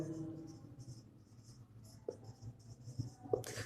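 A pen scratches across paper during a class 7 maths lesson, making faint, soft strokes in short bursts at close range, with a teacher speaking quietly underneath.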